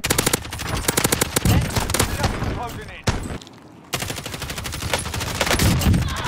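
Rapid automatic gunfire rattles in a video game rebirth lobby, with loud repeated bursts of close shots, a short pause, then more sustained firing, while players talk over it.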